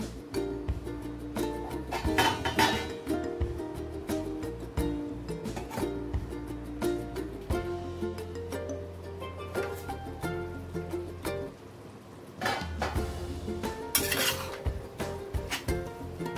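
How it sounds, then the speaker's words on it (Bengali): Kitchen clatter from a pan of cooking vegetables with a lid set over it, a mix of metallic clanks and clinks from cookware over continuous background music. "এখন কিছুক্ষণের জন্য ঢেকে দেবো"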